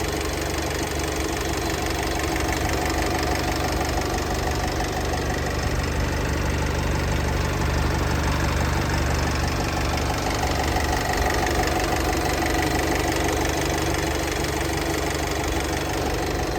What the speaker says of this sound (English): I'll be quiet so you can listen to the engine